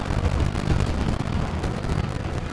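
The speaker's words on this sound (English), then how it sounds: "Oh no, guys, there was an airstrike." Airstrike explosions in the Totally Accurate Battle Simulator game, a dense continuous roar of overlapping blasts and rumbling booms, loud and chaotic without a break.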